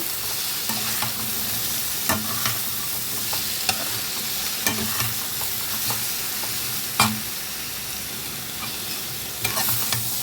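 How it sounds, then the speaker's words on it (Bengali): Cauliflower stalks stir-fried with cumin and red chilli powder, a steady close sizzle broken by repeated sharp scrapes and knocks of a spatula against the pan. "এখন এই মশলাগুলোকে এই সবজির সাথে খুব ভালো করে মিশিয়ে নেব"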